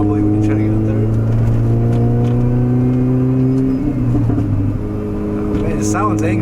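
Mini Cooper S with a straight-pipe exhaust revs hard, a loud, gruff engine note with steady harmonics that climb and fall across the clip, close to the microphone, with a brief dip near the middle.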